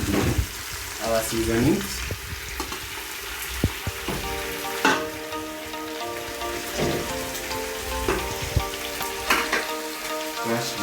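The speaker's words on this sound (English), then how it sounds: "And now we are going to add our tomatoes." Tomatoes hit a hot pan with a steady, crackling sizzle of frying, close and fairly loud, mixed with background music and occasional stirring clatter, while a voice briefly speaks.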